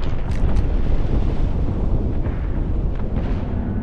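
Airstrike explosions in the battle royale game Apex Legends, a continuous rumbling barrage of distant blasts with a few sharper bursts, no talking.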